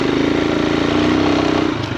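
A Himalayan 462 big-bore motorcycle engine runs steadily up close, its pulsing low-frequency thump continuous and loud throughout, easing slightly near the end with no talk.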